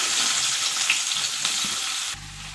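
Onions and green chillies frying in hot oil in a pan, a bright steady sizzle heard close with faint stirring scrapes, dropping away abruptly near the end.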